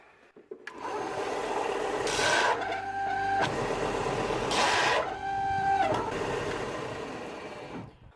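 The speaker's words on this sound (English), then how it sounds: "So my benchtop sander just crapped itself" A benchtop sander whirs steadily for about eight seconds with sustained broadband grinding, two brief louder scraping bursts as a metal billet is pressed against it, ending as it winds down.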